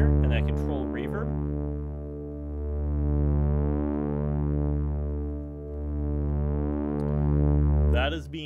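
Sustained synthesizer notes with spring reverb from a VCV Rack modular patch, a rich harmonic chord swelling and fading over several seconds, with brief talk at the start and end.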